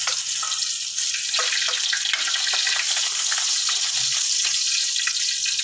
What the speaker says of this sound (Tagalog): Gigisa na tayo gisa na natin ang ating adobo.